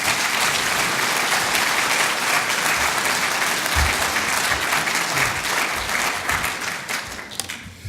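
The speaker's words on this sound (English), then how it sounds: "give Stuart a round of applause as he comes up" An audience at a talking event breaks into sustained applause as a speaker comes up, a dense wash of clapping that holds steady and loud before slowly thinning out at the end.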